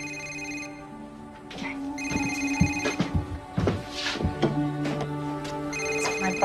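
A telephone rings with a repeating electronic tone, its pattern pulsing steadily through the clip, while scattered clatter and movement sound nearby.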